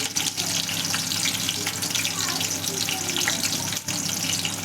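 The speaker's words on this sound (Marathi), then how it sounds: "आता हे गाजर टाकूया" Carrot tossed briefly in hot oil on high heat for a pasta dish, a loud, dense, continuous frying hiss with stirring, close and steady.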